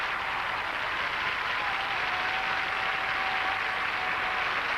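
Crowd applause for a rhythmic gymnastics routine at the 1984 European Championships: a dense, steady wash of clapping that holds at an even loudness throughout, with no voices over it.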